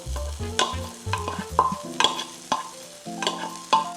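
Corn added to okra cooking over high heat is stirred in the pan, giving a series of close, distinct scrapes and clatters over a light sizzle, with no talk.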